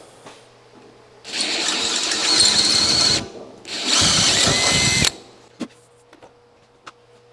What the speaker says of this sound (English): let's go ahead and drill this out.